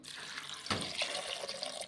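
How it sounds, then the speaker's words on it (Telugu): Water splashes from a pour into a cooking pot holding onion, tomato, green chili and turmeric, making a soft, close gurgle and trickle that briefly swells partway through and carries on with no voices. "తర్వాత కొన్ని నీళ్ళు పోసుకొని"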